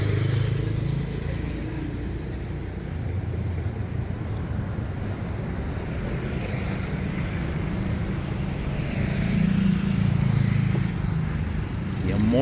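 Steady city traffic beside a taxi stand in Phrom Phong, Bangkok, a continuous low engine rumble with passing vehicles swelling near the end, wind buffeting the microphone and talk over the top.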